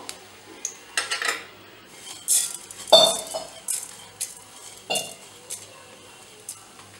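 Black pepper, cumin and dried red chillies roast in oil in a pan over low heat, with a soft sizzle under scattered clinks and scrapes of a metal spoon stirring, and no talking.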